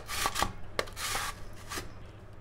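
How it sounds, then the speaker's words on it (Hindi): Potatoes are grated on the coarse side of a grater into thick shreds, a series of quick rasping scrapes in an uneven rhythm, close by and fairly quiet with no voices. "अब हम इन आलुओं को कद्दूकस करेंगे। बड़ी तरफ से कद्दूकस कर रहा है ताकि इनके लच्छे थोड़े बड़े निकलें।"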